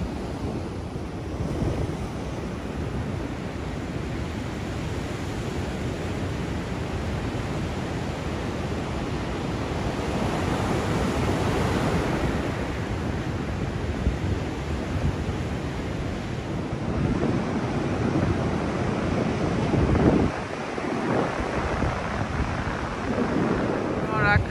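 Surf washing onto Legzira Beach, Morocco, at sunset, a steady broadband rush of waves with wind buffeting the microphone, fairly loud and continuous with swells rising and falling.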